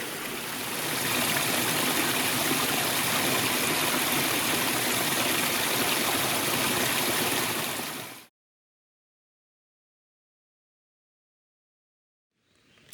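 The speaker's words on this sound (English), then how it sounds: "So many little cascades, like everywhere." Water from small forest stream cascades on the Appalachian Trail in Connecticut, rushing in a steady, full-bodied stream that cuts off abruptly, followed by near silence.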